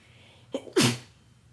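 A single sharp sneeze, a quick in-breath followed by a loud burst, close up in an otherwise quiet room.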